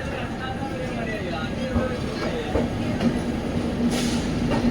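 Hampi Express train with new LHB coaches pulling out of platform 1 on the Mysore to Hubballi run, giving a steady, loud rolling rumble with faint wheel clicks and background voices throughout.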